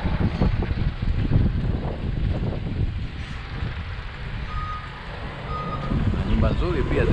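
Trucks rumble along a main road in a gold-mining town while a reversing alarm beeps steadily, with heavy engine noise and wind buffeting the microphone throughout.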